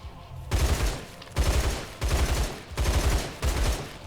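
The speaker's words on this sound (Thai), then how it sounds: "จะสังเกตได้ว่าปืน M41 เนี่ย จะเป็นปืนที่มีประสิทธิภาพในการ ยิงที่เร็วนะฮะ" An M4A1 assault rifle fires on full auto in the video game Line of Sight, five loud, close bursts of rapid shots, each under a second long and separated by short pauses.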